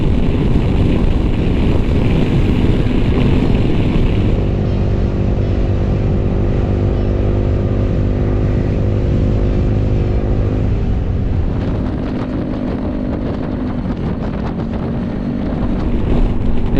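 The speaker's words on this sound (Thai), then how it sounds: "ลมแรงจังวันนี้" Loud, continuous wind buffeting the microphone, with a low rumbling roar throughout as the rider moves.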